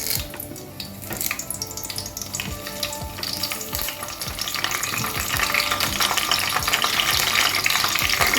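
Curry leaves and green chillies splutter and crackle in hot oil for a cooking dish of cashew mutton curry, with sharp pops over a steady sizzle that grows louder and denser toward the end, with no voices.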